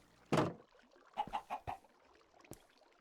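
Chickens in the Minecraft video game cluck in a few short bursts, one louder call followed by a quick run of softer clucks and a sharp knock, with no talk.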